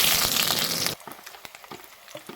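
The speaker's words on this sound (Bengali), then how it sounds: "পেঁয়াজটা হালকা হালকা ভাজা হয়ে গেছে।" Onion frying in oil with salt and dried red chilli in a kadai, a loud dense sizzle for the first second that drops to quieter crackles and pops once stirred or the heat changes.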